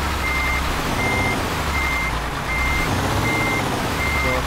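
A truck in Euro Truck Simulator 2 backs up with loud, evenly spaced reversing beeps over a constant low engine rumble, repeating steadily with no voices.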